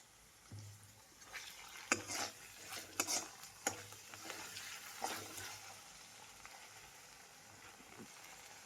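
Garlic and ginger sauté in a pan for soya chilli, a soft steady sizzle broken by several sharp scraping stirs of a spoon against the pan, fading to a quieter frying hiss toward the end.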